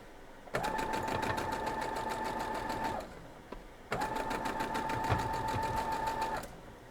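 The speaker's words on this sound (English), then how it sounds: "So we're gonna sew it together real quick." A sewing machine stitches quilt block pieces together in two continuous runs of rapid, humming stitching, the second following a brief pause, close and steady with no speech.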